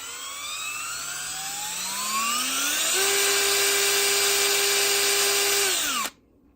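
A power drill spinning a contactless rotary encoder whirs up to speed with a rising whine, holds a steady high-pitched spin for a few seconds, then quickly winds down and stops.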